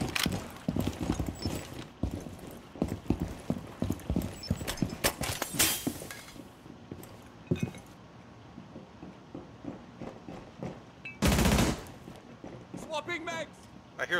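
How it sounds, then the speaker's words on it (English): Rapid hard footsteps descend stairs in Rainbow Six Siege on the Tower map, a quick uneven clatter of steps running through the clip alongside gunfire-like bursts and heavy team voice chat. "We're coming down the stairs."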